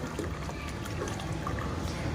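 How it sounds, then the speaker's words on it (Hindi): Water is poured into a drinking container set out for pigeons, parrots and other birds, a soft continuous splashing trickle heard close up, steady and fairly quiet throughout. "और थोड़ा सा इसमें भी पानी डाल देती हूँ।"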